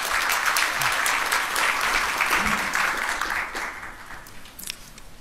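An auditorium audience at a science forum gives warm, loud applause for a presenter taking the podium, fading gradually toward the end.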